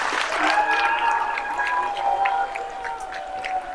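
An audience at a school substance-free coalition talk gives a steady round of applause, dense hand claps filling the room evenly for a few seconds, with some faint crowd noise mixed in.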